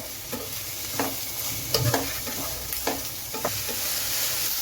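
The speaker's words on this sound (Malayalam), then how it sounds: "നമ്മൾ സവോളയൊക്കെ പെട്ടെന്നൊന്ന് വഴന്ന് വരും." Onions sautéing in a pan with salt for a Kerala-style chicken pulao, a steady close sizzle with a spatula stirring and scraping in repeated light knocks throughout, no voices.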